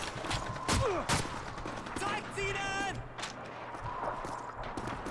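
Scattered gunshots ring out in the video game Call of Duty 2, with clanking weapon mechanics and game sounds mixed in, moderately loud and broken up by short pauses.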